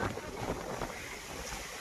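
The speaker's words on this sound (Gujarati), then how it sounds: "હવે અત્યારે પવન બહુ જ છે, અમને ધક્કા મારે છે પવન" Strong outdoor wind on a cold day roars as a steady broadband rush, buffeting the microphone with low rumbling gusts and no talking.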